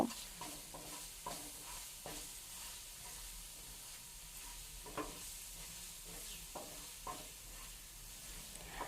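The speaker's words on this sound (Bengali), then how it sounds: "নুন আর হলুদ গুঁড়ো দিয়ে মশলাটা ভালো করে কষিয়ে নেব" Mustard spice paste sautéed in a pan with salt and turmeric powder, a steady close sizzle with scattered stirring scrapes and clicks throughout, no talking.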